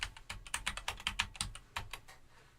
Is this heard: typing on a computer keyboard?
yes